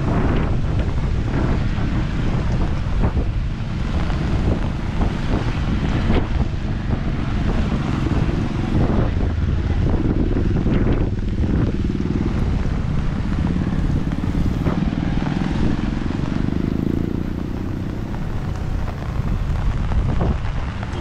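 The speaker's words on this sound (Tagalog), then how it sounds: "Lakas ng hangin" Strong wind from Typhoon Enteng roars continuously into the microphone during flooding, a heavy rumbling buffet that never lets up, with faint splashing water beneath it.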